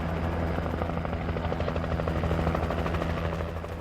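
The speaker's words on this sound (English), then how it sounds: "Why does the local sheriff have a Coast Guard helicopter?" Coast Guard helicopter in the video game Alan Wake Remastered, a loud continuous rotor thump and engine drone holding steady close by, with no talking.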